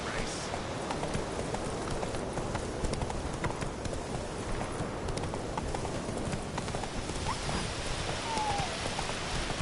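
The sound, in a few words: horse Roach galloping in video game The Witcher 3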